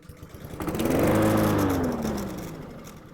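A Honda walk-behind lawn mower engine running on starter fluid fires up and swells into a rising, steady drone, then eases off slightly, close and fairly loud with no talking.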